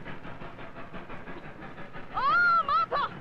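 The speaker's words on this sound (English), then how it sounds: "There's a train coming!" A train approaches in a 1940 film, with rattling rail noise under shouting voices, then a loud wavering steam whistle blasts twice near the end.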